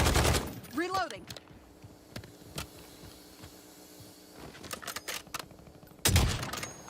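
Gunfire in the video game Call of Duty Warzone, with scattered single shots and quick bursts, some loud and close, others fainter, and a heavy volley at the end.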